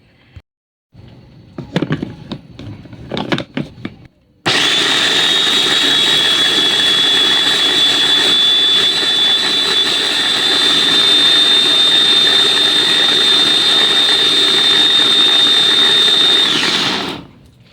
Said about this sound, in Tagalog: pagbe-blender dito sa food processor